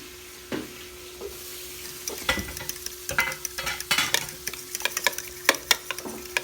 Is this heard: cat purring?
no